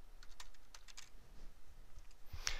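Typing on a computer keyboard, with scattered close key clicks in short irregular bursts over a quiet background, ending in a slightly louder cluster of keystrokes.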